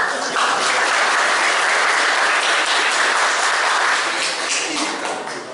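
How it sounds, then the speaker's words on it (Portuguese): A crowd at a spiritist lecture claps steadily for a man singled out from the audience, a dense continuous round of applause lasting several seconds and fading a little toward the end, with no voices on top. "Palmas para ele, gente, por favor."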